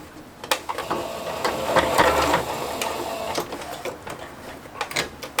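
A sewing machine stitching a securing seam on a fabric pencil case, a steady mechanical whir that swells for a couple of seconds in the middle between lighter handling clicks, close and fairly loud.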